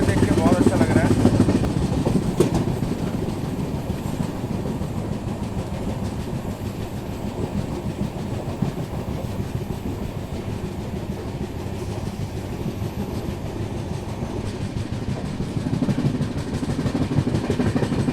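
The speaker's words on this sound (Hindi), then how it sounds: "हमारी ट्रेन मिड घाट रेलवे स्टेशन पार कर रही है" Passenger train on the Rapti Sagar route running through Mid Ghat station, with a steady close rumble and clatter of wheels on the track and no other sound standing out, loud and continuous from start to finish.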